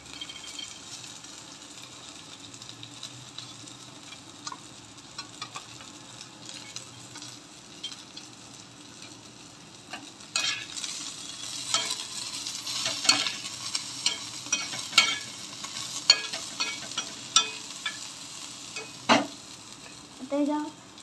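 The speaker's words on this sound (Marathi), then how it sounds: "आता ह्याच्यामध्ये आपण मिरच्या टाकूया. ही मिरच्या, लसूण आणि शेंगदाणा भाजलेला." Green chillies, garlic and roasted peanuts stir-frying with onion in a pan, a soft steady sizzle with scattered spatula scrapes and clinks growing busier toward the end, no voices.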